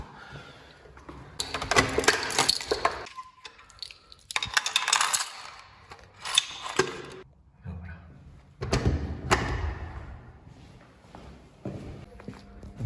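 A small metallic clink as keys are set down, amid footsteps, shuffling and a door, with a voice speaking in between.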